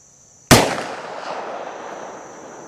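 A single sharp gunshot from a 608 pistol with extra barrel length, firing cheap ammunition over a chronograph, cracks loudly up close and decays into a lingering outdoor echo.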